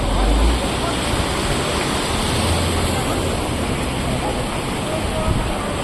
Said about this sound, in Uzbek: Mana ikki tog'ning o'rtasi suv mana chiqib daryoga oqib ketar ekan.